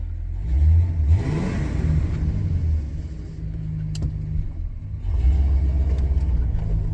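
A 1985 Mercury Marquis with a 351 Windsor V8 runs after cam break-in, a close, rumbling idle that swells into a rev, settles, then rises again, with one sharp click midway.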